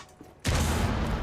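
A frag grenade explodes at a shield in Rainbow Six Siege: a sudden, loud, close blast breaks a quiet moment, then a dense rumbling roar holds for the rest of the second.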